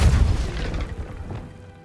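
Repulsor spell cast in the Hogwarts Legacy video game: a deep, booming whoosh that hits loud at once and fades over about two seconds.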